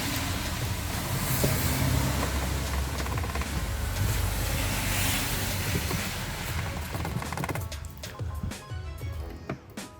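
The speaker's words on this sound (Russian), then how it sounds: "Извиняюсь за шум автомобилей, которые проезжают мимо." Cars driving past outside a parked Nissan X-Trail while its trunk trim is off, a steady loud road rumble that swells and then thins toward the end.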